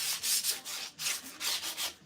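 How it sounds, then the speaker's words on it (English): Wooden boards are sanded by hand, with rhythmic rubbing strokes in about eight bursts over two seconds. The sound is close and steady, with no voices. "we're just obviously sanding these up quickly."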